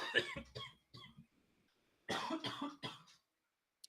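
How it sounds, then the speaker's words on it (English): Two bursts of coughing from a person, a cluster of short harsh coughs followed after a pause by another louder cluster, close and dry with no talk. "Now I'm coughing."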